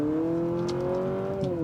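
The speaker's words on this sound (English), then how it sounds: "Can you hear that CVT?" A 2023 Honda CR-V Hybrid with a CVT accelerating in sport mode, giving a steady, droning engine note that climbs slowly in pitch, heard from inside the cabin at moderate volume with no talk.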